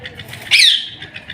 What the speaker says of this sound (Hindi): तोते को इधर लेकर आओ।